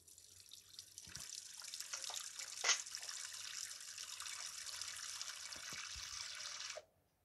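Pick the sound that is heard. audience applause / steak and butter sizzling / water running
water running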